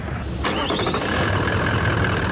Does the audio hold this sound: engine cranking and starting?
yes